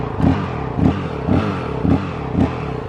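A 2019 Honda CRF450L engine running lean and bogging gives a slow, regular series of heavy thumps, about two per second, close by and with no voices.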